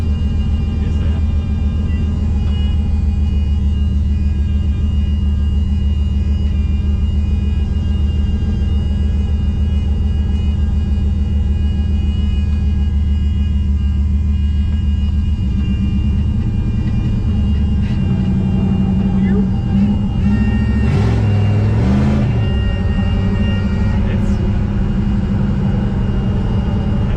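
A car driving slowly with a terrible rumbling fault, a heavy continuous low drone and vibrating rumble throughout that roughens and shifts in pitch toward the end, with no talk over it.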